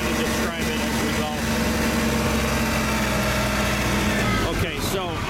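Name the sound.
SkyTrak 10054 telehandler engine running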